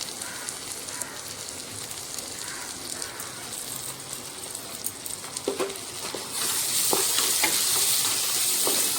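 Small fish chorchori frying in a pan with chopped coriander, a steady sizzle under repeated scraping stirs with a spoon, growing louder and brighter near the end.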